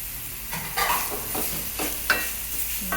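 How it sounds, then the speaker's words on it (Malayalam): Grated coconut stirred into jackfruit thoran in a pan: close, quiet sizzling under several scraping strokes of a spoon, with one sharper knock near the end. "തേങ്ങ ചിരകിയത് ആഡ് ചെയ്തിട്ട് നന്നായി വീണ്ടും മിക്സ് ചെയ്തെടുക്കുക"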